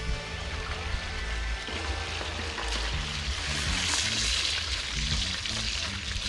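Excess water drains off soaked rice during outdoor cooking at a river party, giving a quiet, continuous pouring and trickling wash under faint background tones.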